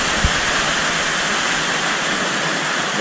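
Heavy rain pours without a break during Typhoon Ulysses in the Philippines, a loud, dense, even rushing roar like a downpour or torrent with no voices.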